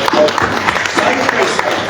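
Audience at an awards ceremony at a Chinese embassy applauding the honourees, close, loud clapping with distinct individual claps in an uneven rhythm, with some speech mixed in.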